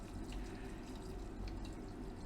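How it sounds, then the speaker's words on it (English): Distilled water pours steadily onto a batch of pure silver crystals to soak off the electrolyte, a continuous close splashing rush with no pauses. "just add some distilled water to this. Let it soak in distilled water"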